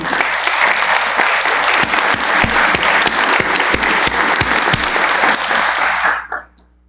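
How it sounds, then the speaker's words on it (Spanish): A church congregation gives loud, sustained applause for its volunteer servers. Dense clapping with a few sharp individual claps fills the room evenly, then fades out abruptly near the end. "Yo quiero que le demos un fuerte aplauso a todos los servidores que sirven en esta iglesia."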